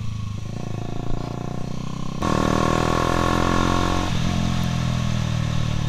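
A Honda CBR150R Repsol Edition motorcycle engine runs steadily up close while riding, then revs louder with a rougher, rising roar before settling back to a lower drone.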